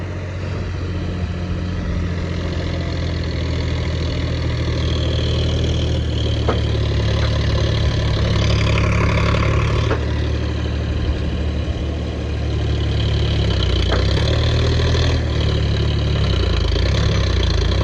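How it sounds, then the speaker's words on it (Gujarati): A tractor loaded with manure drones loudly and continuously up close, stuck in a muddy field, its low rumble labouring and shifting pitch slightly as it strains. "ટ્રેક્ટર દબાઈ રહ્યું છે."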